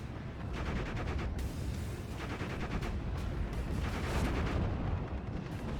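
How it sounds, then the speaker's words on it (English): Rocket artillery fires in a World War II strategy game, a continuous barrage of rapid booming launches and rumbling impacts layered thickly over one another, loud and sustained throughout with no voice. "Looks like the rocket artillery is once again firing."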